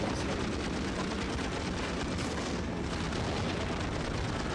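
Bombs explode in the World War II flight combat game Heroes of the Pacific, forming a dense, continuous roar of loud blasts and rumbling with no pause and no clear gaps between hits.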